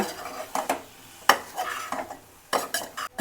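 Radish fry with grated carrot and chopped coriander being stirred in a pan, with a few scraping, clattering strokes of a spoon against the metal at irregular intervals, close and fairly loud, no voices.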